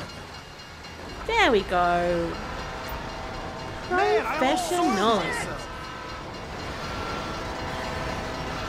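A passing train in Grand Theft Auto V rumbles along steadily, with two blasts of its horn sounding partway through while a player talks.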